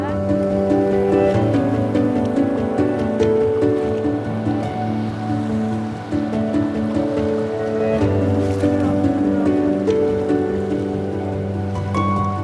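River water washing and splashing steadily as people wade across to reach bamboo on the far bank, a continuous close rush with a narrator speaking over it.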